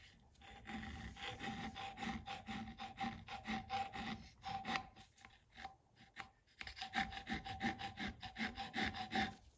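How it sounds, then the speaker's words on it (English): A hand file is drawn along a metal edge on an old, neglected Mity Kat bulldozer to remove burrs, making rhythmic rasping strokes, close and moderately loud, with a brief pause midway and no talking. "So I'm gonna need to take a file and go along this edge."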